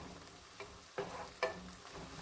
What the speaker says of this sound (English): I'm gonna deglaze my pan with 2 cups of chicken broth.